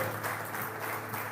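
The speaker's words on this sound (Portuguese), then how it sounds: "Você pode aplaudir ao Senhor" A congregation applauds during a church service, a sustained, moderately loud wash of clapping from many hands with no distinct individual claps.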